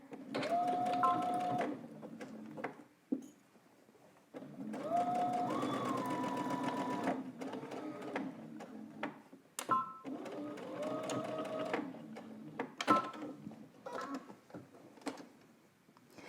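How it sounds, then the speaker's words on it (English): A domestic sewing machine runs in several bursts while stitching the shorter end of a coat seam, its motor whirring steadily between brief pauses, with some quiet handling noise. "now we're going to stitch this shorter end"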